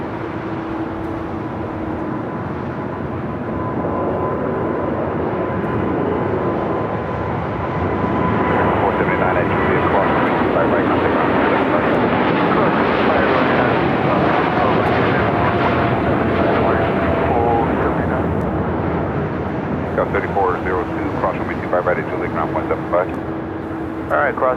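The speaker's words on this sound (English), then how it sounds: "It's the second 747-8 taking off at 25 left." A Boeing 747-8 takes off from runway 25 left at LAX, its jet engines roaring continuously and swelling louder midway as it climbs, heard from a distance with talk and radio chatter over it.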